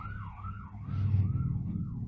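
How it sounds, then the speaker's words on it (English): Emergency vehicle sirens wail down a residential street, a steady rising and falling tone that swells louder midway, with no talk over it. "I don't know if guys can hear those sirens"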